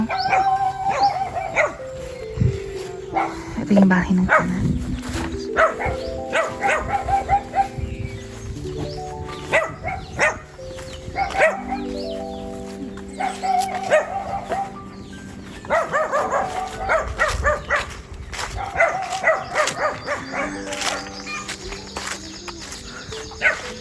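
Dogs bark repeatedly and loudly nearby, in bursts of yips and deeper barks, with someone speaking briefly amid the noise.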